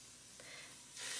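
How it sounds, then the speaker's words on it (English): Steady frying sizzle of scallops searing in a Ninja Foodi cooker, soft and continuous, growing louder and brighter near the end as more scallops are added to the hot pan. "do we hear the sizzle? Yay, we hear that sizzle."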